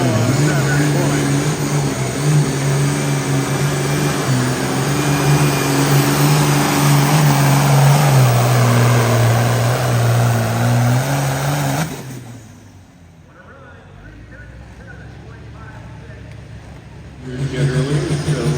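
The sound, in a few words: tractor pulling at county fair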